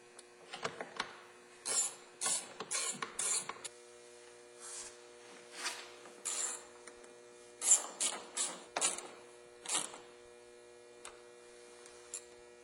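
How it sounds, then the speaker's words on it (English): Short bursts of a small electric driver or ratchet snugging 7mm bolts on a Ford Mustang door, a dozen or so brief whirring pulses with pauses, close and fairly quiet over a steady hum. "Now to replace our 7mm bolts here. It's not to over tighten these, just nice and snug."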